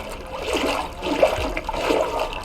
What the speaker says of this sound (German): Lauter geht's nicht mit dem Wasser.